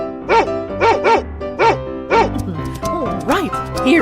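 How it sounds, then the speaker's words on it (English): A dog barks in a quick, regular series of five loud yips close by, then moves into higher, wavering whimpering yelps. "Dog."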